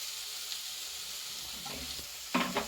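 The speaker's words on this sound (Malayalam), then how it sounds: "ഇനി ഒരു കുറച്ച് വെളിച്ചെണ്ണയും കൂടെ ഒന്ന് ഒഴിച്ചു കൊടുക്കാം" Coconut oil is poured onto jackfruit seed thoran sizzling in a pan, giving a soft steady hiss that flares briefly into a louder crackle near the end, close and without talk.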